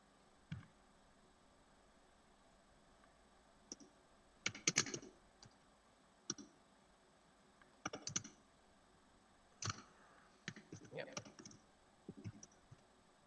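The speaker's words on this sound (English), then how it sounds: "My keyboard's really loud." A loud computer keyboard clacks in scattered bursts of typing separated by quiet gaps, close to the microphone.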